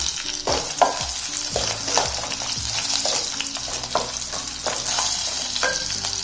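Cashews and green chillies frying in hot oil for tempering, a steady close sizzle with a spoon stirring and scraping the pan at intervals, no talking.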